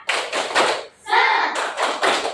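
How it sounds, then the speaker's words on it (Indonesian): Classroom children do a rhythmic spirit clap together in a science lesson on magnets, loud clapping bursts in a patterned beat with a brief chanted vocal in the middle. "kita tepuk semangat dulu ya"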